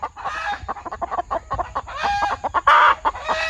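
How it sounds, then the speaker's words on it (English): Several newly acquired backyard chickens cackle and cluck loudly after being startled by a cat, a busy overlapping chorus of squawks, with a louder burst of agitated calls near the end. "The cat walked by and scared them, so now they're cackling."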